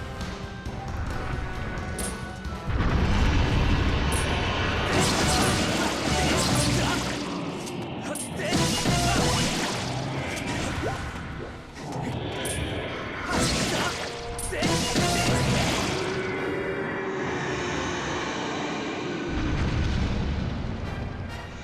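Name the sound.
cannon firing a bomb in the video game Skyward Sword HD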